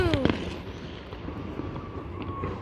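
Independence Day fireworks explode in a show, with rapid booms and crackles at the start, then a lower, rumbling wash of distant bursts.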